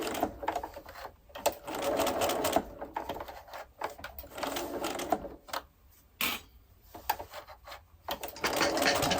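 Domestic sewing machine stitching a small fabric pouch for a baby tooth, running in steady bursts of rapid stitching with brief pauses between runs, close and clear with no talking.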